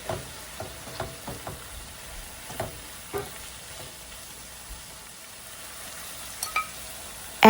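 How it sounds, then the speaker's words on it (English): Ground beef browning with rice in a pan: a quiet continuous sizzle with irregular spatula taps and scrapes every half second or so, close by, and a louder knock at the very end, without speech. "Cook the beef until it's brown."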